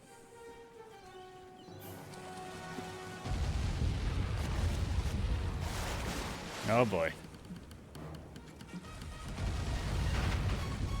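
Booming ship cannon fire in a naval battle in the video game Sly 3, a few heavy low blasts rolling under a man's brief remark and game music.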